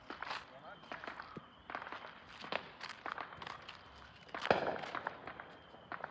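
Distant backyard fireworks pop and crackle in scattered bursts around an outdoor yard on a July 4th evening, faint and far off, with one sharper, louder report partway through.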